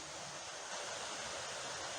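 A creek rushing over rocks below a steep hillside on a canyon road gives a steady, dense wash of water noise, distant and even throughout.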